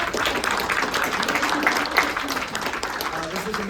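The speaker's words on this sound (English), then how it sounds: "Big round of applause for Chris as well." Audience applause at a college coaches' forum panel, a steady wash of clapping from many hands, fairly close and even throughout, with voices mixed in.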